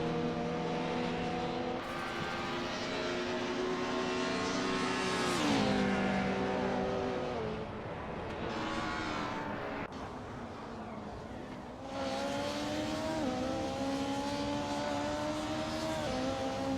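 Race cars roar around a track in a video game race, engines droning continuously with pitch sweeping up and down as they accelerate and pass, fairly loud and steady with no talk.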